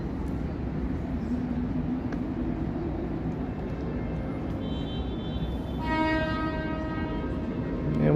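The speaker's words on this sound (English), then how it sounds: "I hear a lot of honking and stuff down here." Horns sound in downtown Toronto on a busy Friday night, a low city rumble carrying on until a loud sustained horn blast cuts in near the end.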